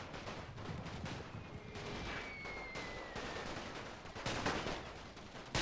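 Rifle fire crackles continuously in a World War I battle between Russian and Ottoman light infantry, dense overlapping shots at mid distance with a low rumble underneath and no voices.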